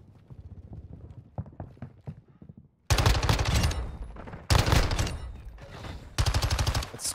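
Gunfire in the Call of Duty Warzone Shadow Siege event: after a stretch of soft tapping, loud rapid automatic bursts erupt in three close, heavy volleys with brief gaps between them.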